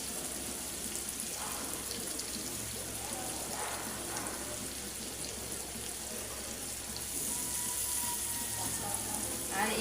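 Onions and green chilies frying in a pan for an egg dish, a steady soft sizzle running evenly throughout and growing a little louder near the end.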